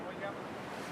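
Ocean waves lap the shore in Ecuador, a soft, continuous wash of surf with a windy hiss, low and steady throughout.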